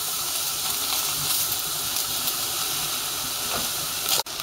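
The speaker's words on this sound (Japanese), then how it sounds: "こちらね、ちょっと先ほどのネギをね、切ってね、鍋でちょっとね、焼いてみます。" Chopped green onions searing in a pot give off a steady hiss and sizzle throughout, close and even, ending with a brief clunk.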